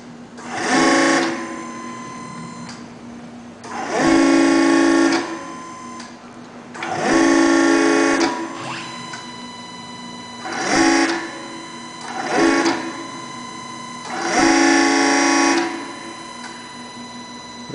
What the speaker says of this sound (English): So we'll go ahead and activate the actuator with the control signal